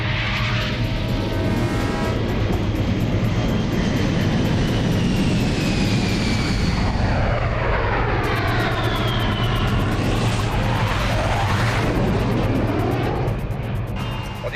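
A patrol aircraft takes off with a loud, continuous engine roar that rises and sweeps in pitch as it passes and climbs away, with heavy rumble throughout.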